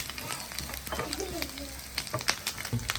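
Fenugreek seeds frying in leftover oil in a pan, a steady soft sizzle and crackle with occasional stirring scrapes, close and moderately loud, no voices.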